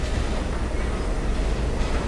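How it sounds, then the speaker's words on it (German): A subway train rumbles in the background of the video game The Moment of Silence, a steady low roar with no voices over it. "dass man im Hintergrund die U-Bahn-Geräusche hört, wenn die U-Bahnen doch abgestellt sind"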